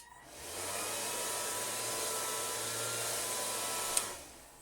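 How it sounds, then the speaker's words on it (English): Lift motor of a Taiyo Edge hovercraft running steadily from close by, a loud, even whirring drone that starts up, holds level for about four seconds with a brief tick near the end, then cuts off. "And then we also have our lift motor."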